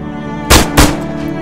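Two sharp gunshots about a quarter second apart, loud and close, fired in the Takistan Life game mode, over quiet background ambience.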